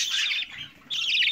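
A young budgie chick giving shrill, squawking calls in two bursts, the first fading into a brief quieter gap before a second loud call resumes, close up with no talk.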